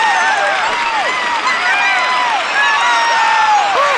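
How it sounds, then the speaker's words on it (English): A crowd cheers and whoops for a cat walking the tightrope at a circus in a Little Critter children's app, a continuous, bright, close wash of cartoon cheering with rising and falling voices throughout. "I walk the tightrope and everyone would cheer."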